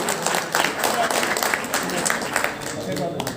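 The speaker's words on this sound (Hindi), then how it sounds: "जोरदार जोरदार तालियां।" Audience applause at an indoor felicitation gathering, a sustained, dense patter of many hands clapping at steady loudness, with voices mixed in underneath.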